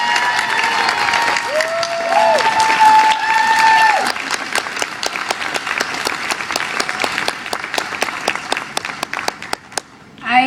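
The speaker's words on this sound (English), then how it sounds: "let's give a huge applause to the fabulous Anastacia-Tolbert" An audience in Seattle applauds an incoming civic poet, loud sustained clapping and some cheering from many people, with a whistle-like tone early on, thinning to sparse individual claps before stopping.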